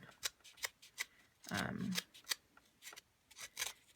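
Dry rubbing and scraping along the rough cut edge of a handstamped greeting card, a run of short scratchy strokes in a steady rhythm, close up, with one longer louder rub in the middle.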